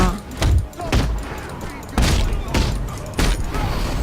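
Gunfire in Batman: Arkham Knight, several heavy bursts of booming shots separated by short pauses, loud and close, with game sound in between.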